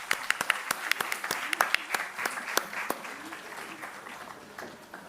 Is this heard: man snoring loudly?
no